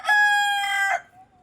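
A big country rooster crows nearby, a single loud, clear cock-a-doodle-doo lasting about a second, followed by a soft trailing note.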